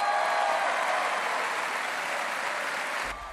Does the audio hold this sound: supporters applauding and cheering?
yes